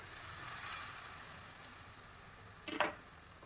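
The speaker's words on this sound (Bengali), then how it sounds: "এবার আমি জাফরান ভেজানো দুধটা দিয়ে দেবো" Saffron-soaked milk goes into a hot pan of paneer base and sizzles with a steady soft hiss, then a brief clink near the end.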